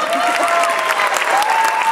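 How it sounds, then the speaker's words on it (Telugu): An audience claps together in a continuous burst of applause, close and loud throughout, with a sustained voice or tone running underneath. "But come on, clap clap, come on."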